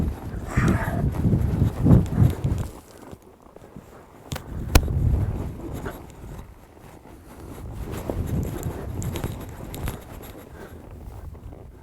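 A cutting horse's hooves thud on soft ground in uneven clusters during a ride, loudest near the start and midway, with quieter shuffling and gear sounds in between.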